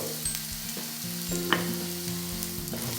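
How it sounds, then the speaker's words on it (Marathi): Chopped onion with a pinch of salt frying in a pan, a close, steady sizzle with occasional soft stirring scrapes and one brief clink, no voices. "म्हणजे कांदा लवकर फ्राय होऊन जातो"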